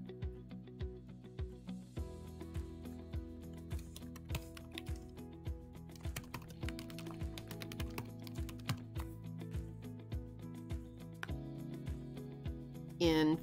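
Typing on a computer keyboard while entering a photo credit in InDesign, steady soft key taps in short runs with some pauses, quiet under someone narrating.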